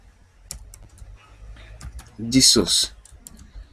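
Keys clatter sparsely on a nearby computer keyboard, with scattered single taps and a brief cluster of louder noises near the middle, while someone speaks.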